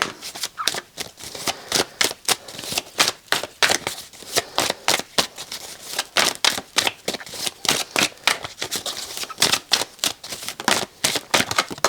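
Tarot cards shuffled and drawn for a Pisces reading, a steady run of crisp riffling flutters and snaps close by, repeating in quick bursts with no talking.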